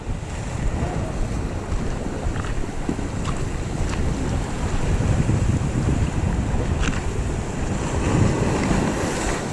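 Ocean waves surge and wash near a small boat off the coast of Agno, Pangasinan, under constant heavy wind buffeting the microphone, a loud, rough roar with no voices.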